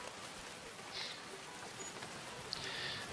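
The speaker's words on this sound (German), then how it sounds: "Der Regen ist nervig." Rain falls in the strategy video game Stronghold 3, a faint, even hiss throughout with a couple of brief higher tones in the background, no voices.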